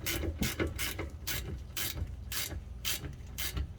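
Ratchet wrench tightening a bolt on the rear brake of a Dodge Avenger 2.4L, a steady series of quick clicking bursts in a regular rhythm, close and clear with no talking.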